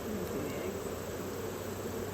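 Honey bees buzz around an open beehive with a queen in the honey super, a dense, steady drone filling the air at close range with no talk.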